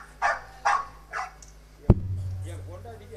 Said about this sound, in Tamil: யோ, என்ன இது நாய்?